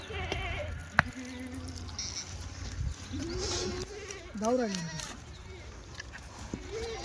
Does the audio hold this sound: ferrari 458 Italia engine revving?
no